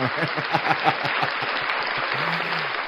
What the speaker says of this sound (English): let's give a round of applause to Florida right there.